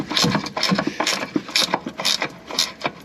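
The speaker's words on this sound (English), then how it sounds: "Last bolt's coming out." A ratchet wrench clicks in quick repeated bursts, close and fairly loud, loosening the last bolt on the steps bracket of an ERF truck under restoration.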